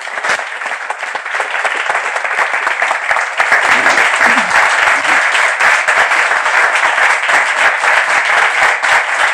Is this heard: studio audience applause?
yes